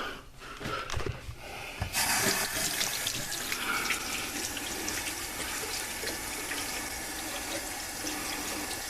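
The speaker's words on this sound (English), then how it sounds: "run some water through it, make sure there's no leaks." Water gushes from a tap into a freshly unclogged, previously slow-draining sink, starting with a few knocks and then flowing in a steady, close splashing stream.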